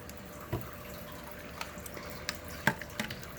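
Water drips and trickles sparsely into an enclosure for a pet Chilobrachys tarantula, a few faint, irregular splashes and taps over a quiet room, with no talking.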